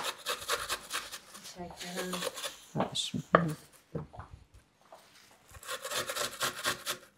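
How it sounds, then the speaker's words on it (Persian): Rhythmic rasping strokes of food grated on a sharp kitchen grater, coming in bursts with pauses, while people talk in between. "عمه چه رنده تیزی داری"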